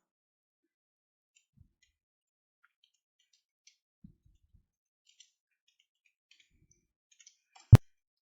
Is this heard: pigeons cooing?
no